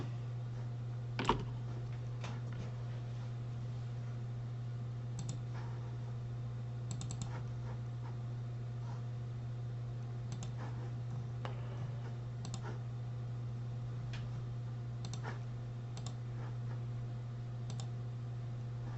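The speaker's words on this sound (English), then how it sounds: "Press 6 on our keyboard" Scattered clicks of a computer keyboard and mouse at a desk, soft and irregular, heard over a steady low electrical hum with no talking.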